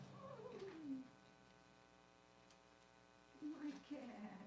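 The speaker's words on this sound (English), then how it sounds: "My cat." A house cat meowing indoors: two drawn-out, falling meows a few seconds apart, fairly close but soft, with a quiet pause between them.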